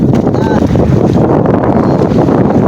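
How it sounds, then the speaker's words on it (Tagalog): Strong northeast monsoon wind buffets a fishing boat at sea, a loud, steady roar that rushes continuously across the mic, with people talking underneath. "palakas ng palakas yung hangin amihan"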